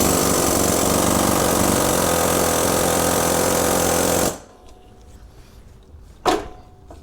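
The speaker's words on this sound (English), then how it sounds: "we're just going to go at it with a drift and an air hammer" A loud air hammer drives a drift against a stuck roll pin on a 1998 Polaris Sportsman 500 ATV hub, a continuous rapid hammering for about four seconds that cuts off abruptly, followed by a single knock.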